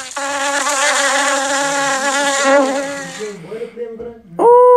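A bee in the Ant Smasher mobile game gives a steady, loud electronic buzz that wavers slightly for several seconds, then fades before a short, sharp tonal blip at the end.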